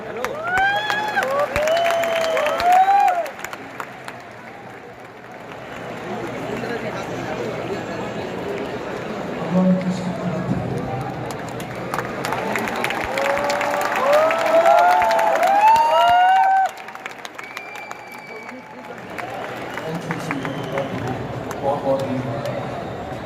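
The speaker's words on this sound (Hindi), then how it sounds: "एक बार जोरदार तालियों के साथ में स्वागत कीजिए सर का।" A large live audience at a motivational speaker's event gives sustained applause and cheering to welcome the speaker, a dense roar of clapping heard over loud chatter and shouting voices throughout.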